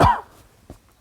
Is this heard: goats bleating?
no